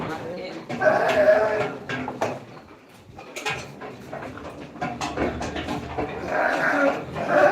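Sheep and rams bleat repeatedly from close by, several animals calling over one another with a person talking between the cries.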